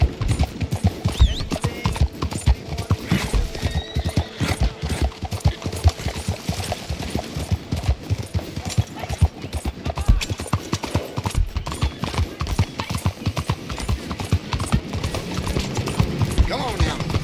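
Horse hooves clip-clop steadily at a walking pace in Red Dead Redemption 2, loud and close throughout, with a rider's voice talking over the hoofbeats.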